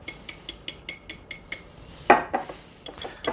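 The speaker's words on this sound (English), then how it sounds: "Now we'll try to mix, see if I can get these all incorporated together." Pumpkin cake batter being mixed in a container gives a steady run of rhythmic clinking and scraping strokes, close and fairly loud, with a sharper knock partway through.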